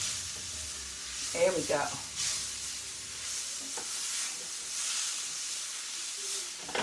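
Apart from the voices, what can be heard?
jackfruit sizzling in coconut oil in a pan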